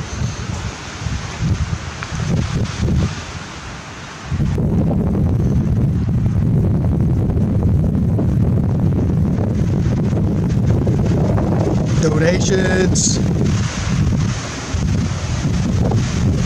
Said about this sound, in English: Again, sorry about the wind.